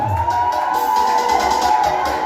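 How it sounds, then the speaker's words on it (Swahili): A crowd cheers and claps for Dada Sarah, a lively, continuous roar of applause and shouting from a nearby audience. "Wapi makofi ya dada sana?"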